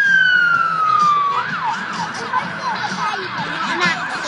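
An ambulance siren on a road in Essex shifts from a long, steady falling wail into rapid repeating yelps. It sounds loud and close, with no voices.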